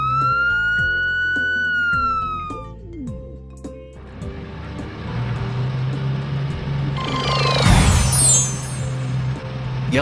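Police car siren wailing with rising and falling tones, followed by heavier traffic noise with a truck-like rumble and a burst of high squealing, loud and close with no talking.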